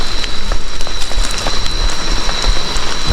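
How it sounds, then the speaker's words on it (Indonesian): Steady rain pours down in a Kalimantan forest, a dense continuous hiss of drops with scattered louder pattering close by, heard alone with no voices. "Hujan ini"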